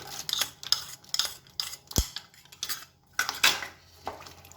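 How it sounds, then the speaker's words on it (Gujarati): Sautéed cashew pieces tipped into a pan of sautéed capsicum for kaju capsicum masala, bringing a run of sharp metal spoon clinks and scrapes against the pan, close and distinct, with a louder knock partway through. "કાજુના ટુકડા જે સાંતળ્યા હતા એ પણ આપણે અંદર ઉમેરી દઈશું"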